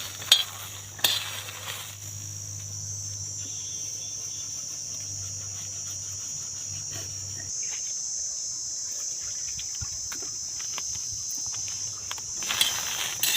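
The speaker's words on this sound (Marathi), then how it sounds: "तुम्ही पाहू शकता बिया भाजतात हळूहळू" Jackfruit seeds roasting on a hot griddle over a wood-fired clay stove give a faint, steady crackle and sizzle with scattered small pops, low in level and unbroken by voices.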